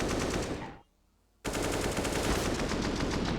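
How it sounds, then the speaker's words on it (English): Slowed-down AK rifle fire from CS:GO roars as a dense continuous burst, stops abruptly for about half a second of near silence, then resumes just as loud and sustained. "Now, the slowed down AK sound, one of my faves."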